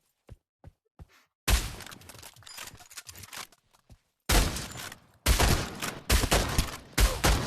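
Sniper rifle shots and gunfire in an online shooter video game: a few sharp isolated cracks, then loud, dense bursts of rapid firing with brief gaps, near and dominant.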